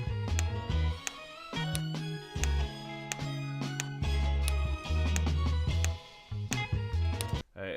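A soul record plays back for sampling, with a warm groove of deep bass notes, chords and percussive hits moving in a steady rhythm at moderate loudness, and no talking over it.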